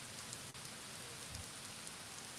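Steady rain falls outdoors at night on a street in Alexandria, Louisiana, a dense, even hiss of drops close by with no voices.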